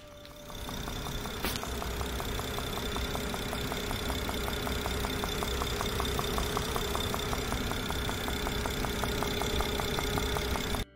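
An Audi engine with about 2,000 miles, catastrophically failed, idles with a rapid, regular metallic knocking ticking through its steady hum, one sharp click near the start.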